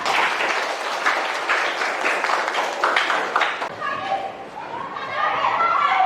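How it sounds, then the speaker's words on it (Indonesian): A classroom of students breaks into applause, a dense burst of clapping for several seconds that gives way to children's chatter and voices, fairly loud and close. "Aplaus semua."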